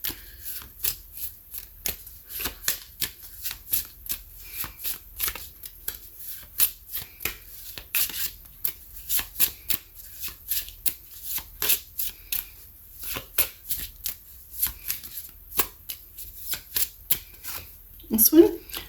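Cards being shuffled and drawn from a deck, a steady run of crisp close riffles and flicks with soft handling noise, no talking over it.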